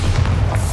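A Bombarda blasting spell explodes in Hogwarts Legacy, a single short, heavy boom with a deep low-end thump, close and loud.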